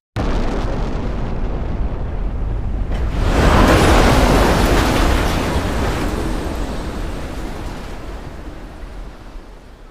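Big Bang explosion sound effect: a loud, sustained rumbling blast of broadband noise that swells after a few seconds into a roaring peak, then slowly settles into a long, wind-like decay with no voices.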